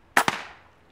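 Gunshot fired at a bullfrog while frog hunting, two sharp close cracks in quick succession with a short fading tail, alone with no talk.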